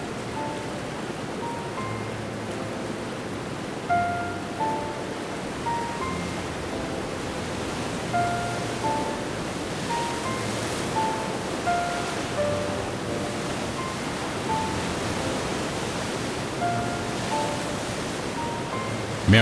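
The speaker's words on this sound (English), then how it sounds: "Myriad waterfalls rejuvenate every inch of the forest as they steadily flow downward." Steady rushing water from many waterfalls in a damp forest forms a constant broadband roar, with faint repeating tonal calls scattered over the wash and no voices.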